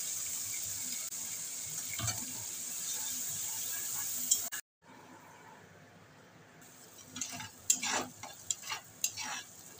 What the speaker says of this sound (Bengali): গোটা জিরে ফোড়ন দিয়ে দিচ্ছি। এবার পেস্ট দিচ্ছি